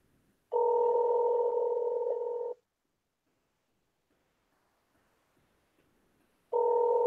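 Outgoing phone call ringback tone, two long steady electronic rings several seconds apart with silence between, clear and alone with no talking.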